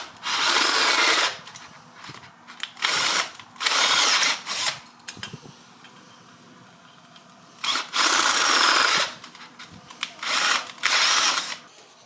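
A power drill making holes in a sacrificial drill board whirs in several short bursts separated by pauses, close and loud, with faint mechanical clicks between runs.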